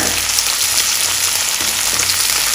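Ginger and garlic sauté in a hot pan for Kerala-style chicken pickle, a steady, close, loud sizzle with fine crackling throughout and no talk.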